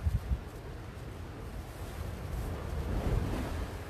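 Rough surf and gusting wind on the sea shore at Blackpool on a rainy, windy day at high tide, a steady broadband roar of breaking waves with low wind buffeting the microphone, continuous and fairly close, no talking.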